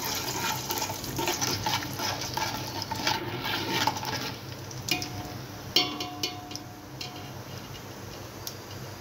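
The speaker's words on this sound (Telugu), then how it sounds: "1 స్పూన్ జీలకర్ర వేసుకుంటున్నాను. ఈ మినపప్పు వేసుకుంటున్నాను. వేసుకొని కలుపుకోవాలి." Cumin seeds and urad dal sizzle in hot oil while being stirred, with soft frying crackle, a few spoon taps and scrapes against the pan, faint and close.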